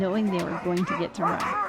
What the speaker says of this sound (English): Upon arrival, you could hear the barking and feel the anticipation the dogs were experiencing